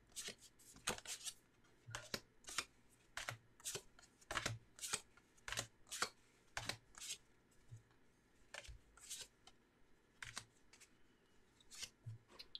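Pocket page kit cards being flipped through one by one, a quick series of crisp paper flicks and riffles repeating steadily throughout, close and fairly loud, with no talking.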